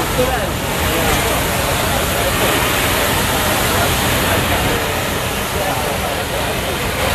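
A Sisu-engined pulling tractor labors under heavy load at a fast pulling event, giving a continuous, loud, dense engine roar that holds steady throughout, with crowd and commentary noise mixed into the wash.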